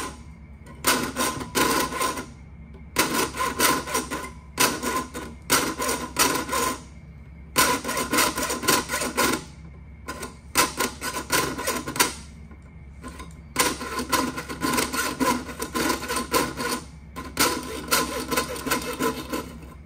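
A hand saw cuts through sheet metal in bursts of fast, rasping strokes, each run a few seconds long and split by short pauses, close and steady.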